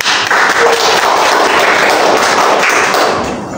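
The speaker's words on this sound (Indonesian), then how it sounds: "beri tepuk tangan untuk Zulfi dan Ani" Classroom applause for two students during a microteaching economics lesson, a dense burst of clapping heard loud and close for several seconds before tapering off.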